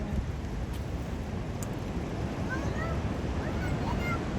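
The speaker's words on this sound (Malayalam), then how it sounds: "നോക്കി അവിടെ ഭയങ്കര വെള്ളച്ചാട്ടം." A big waterfall near Munnar gives a steady, dense roar of rushing water that fills the whole stretch without a break, mixed with wind buffeting the microphone.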